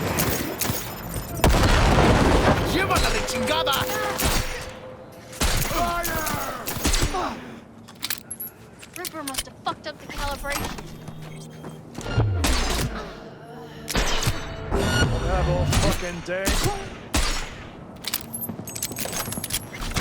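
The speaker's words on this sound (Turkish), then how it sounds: "Silah sesleri duyuyorum ama." Cyberpunk 2077 gunfire crackles in repeated bursts and single shots, near and loud, separated by brief quiet gaps, with occasional voices in between.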